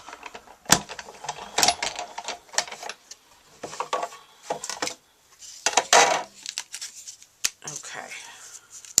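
A die-cutting machine rolls a cone die and clear cutting plate with cardstock through for Christmas pine cards, giving close, irregular mechanical clicks, crunches and plastic clatter in short bursts with pauses between.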